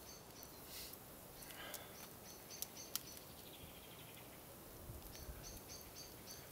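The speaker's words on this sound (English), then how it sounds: "So nice to hear the birds." Birds chirp and call at dusk around a woodland campsite after the wind drops, short repeated high notes coming in small bursts over a steady faint background hiss.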